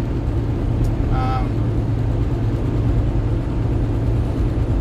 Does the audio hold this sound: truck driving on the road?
yes